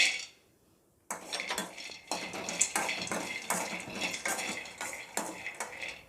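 Pistachios dry roasting in a pan are stirred with a metal spoon, giving close, repeated scraping and rattling strokes in an uneven rhythm after a brief near-silent pause.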